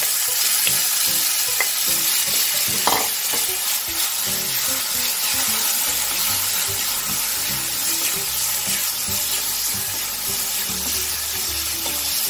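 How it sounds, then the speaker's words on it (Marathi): Onion paste sizzles and crackles in hot oil spiced with turmeric and red chili powder, a loud, continuous close-up frying hiss with occasional stirring scrapes throughout. "लगेच आपल्याला कांद्याची पेस्ट टाकून घ्यायची आहे"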